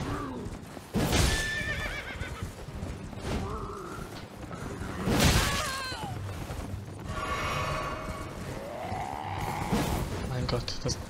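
In Elden Ring, horses neigh loudly several times among clopping hooves and mechanical clanks, with someone talking over the game sounds.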